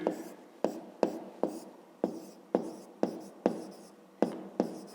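A pencil jots points down on paper in quick, evenly spaced strokes, about a dozen sharp scratchy taps close up with no voice over them.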